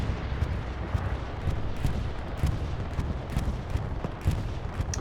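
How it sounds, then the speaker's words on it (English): A bombing run in the WWII game Hell Let Loose, heard as a distant, continuous rumble of explosions with scattered faint cracks, fairly quiet and without any voices. "So bombing run."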